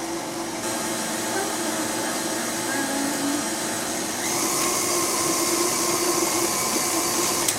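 Stand mixer beating churro dough with an egg mixed in, a loud continuous motor whir with a steady high whine that shifts slightly partway through, close and alone.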